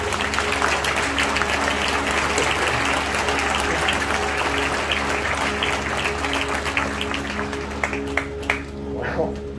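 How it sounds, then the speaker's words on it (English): Crowd at an Eastern Oregon livestock show breaks into sustained applause, a broad wash of clapping over a low steady hum, with voices talking beneath it and a few sharper claps near the end. "Maybe we should clap."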